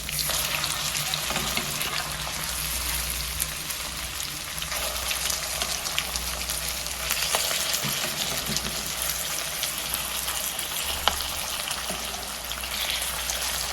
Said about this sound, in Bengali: আর এগুলো ভাজতে 4 থেকে 5 মিনিট সময় লাগবে।